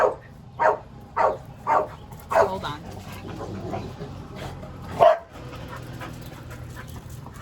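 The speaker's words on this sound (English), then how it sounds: "There's my dog." A pet dog barks in a quick run of four or five sharp woofs, close and loud, followed by softer panting and a final bark, while a person speaks briefly over it indoors.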